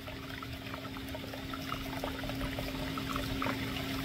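A garden water feature geyser fountain splashes steadily beside a rose bed, giving a continuous close rush of pouring water with a faint hum running underneath.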